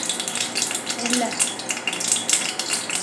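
A large spoonful of oil goes into a kadhai sitting on a gas flame, with steady scraping and clinking of metal utensils over a soft sizzling hiss, close and continuous.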